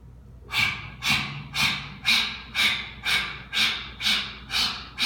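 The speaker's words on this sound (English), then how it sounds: "You're going to be panting like a dog till all the breath comes out." Rapid, forceful panting breaths during a pranayama breathing exercise, nine evenly spaced sharp exhalations in a steady rhythm, close and loud with no talking.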